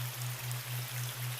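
A steady downpour of rain falls continuously, with an even hiss and a low, constant hum underneath. No one speaks.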